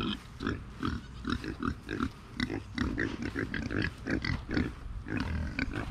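Pigs in a barn give repeated close, rhythmic oinks and grunts, a steady run of short snorting calls with no talk over them.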